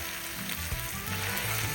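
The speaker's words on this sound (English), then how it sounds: "Just to sear the onion and garlic together before I add my ground beef" Onion and garlic searing in a hot pan ahead of ground beef, a soft steady sizzle with faint crackles, fairly quiet and close, no voices.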